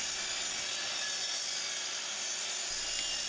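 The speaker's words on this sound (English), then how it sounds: "I'm taking the time to square up one edge here before I cut the block to size" A wooden block is squared along one edge for a miter spline and dovetail key jig, giving a steady, close, hissing rasp of a cut or planed edge with no voices.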